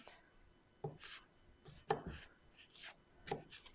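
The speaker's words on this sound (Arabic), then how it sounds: "دلوقتي أنا هبدأ إيه أقطع المكونات دي كلها، برضو إيه تقطيعات كبيرة كده" Knife chopping ingredients into large chunks on a board, three or four sharp distinct cuts spaced irregularly, close and fairly quiet with no talking.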